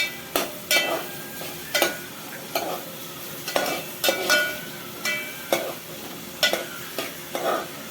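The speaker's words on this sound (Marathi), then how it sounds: "आता त्याच्यामध्ये कांदा टाकूया." Onion frying in hot oil with whole spices for a dry chicken dish, with a soft continuous sizzle under regular spoon stirs scraping the pan about once a second, close up, no talking.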